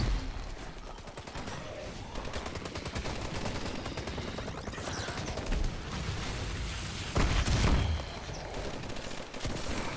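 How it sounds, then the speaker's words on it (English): Call of Duty Advanced Warfare zombies game combat: constant rapid gunfire rattles throughout, with a louder grenade blast near the end, dense and loud without clear speech. "Who just chucked a grenade?"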